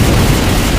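A Molotov or bio bomb going off in Left 4 Dead 2 survival on the Favela map, a brief, loud, dense burst of roaring noise filling the whole moment.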